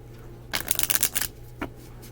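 Tarot cards riffled and shuffled in a quick burst of papery flutters, followed by a single softer card snap, close and fairly quiet against a faint steady hum.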